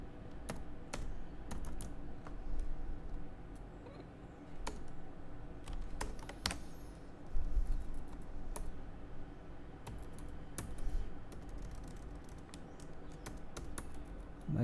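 Computer keyboard keys clatter steadily while HTML code is typed, a dense run of quick, close clicks with brief pauses over a quiet room hum and no talking.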